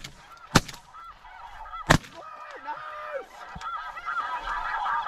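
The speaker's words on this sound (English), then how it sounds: "there's one suicidal goose coming straight in" Canada or snow goose honks ring out near a hunting blind in Alberta, several loud calls, with two sharp gunshot-like bangs early on and softer honking continuing throughout.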